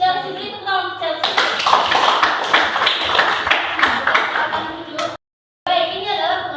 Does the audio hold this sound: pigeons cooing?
no